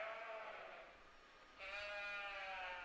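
Ewe lambs in a county fair sheep show ring bleat in a steady chorus of overlapping, wavering cries, slightly quieter midway before a louder, closer bleat swells at the end.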